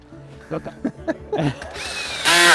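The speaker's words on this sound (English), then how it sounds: "now we're gonna install the deck boards by screwing them in" A power drill drives screws through Trex composite deck boards, first a few short knocks and taps, then a rising whir that ends in a loud, sustained drilling burst up close.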